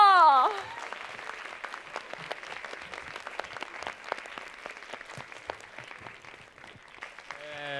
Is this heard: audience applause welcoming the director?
yes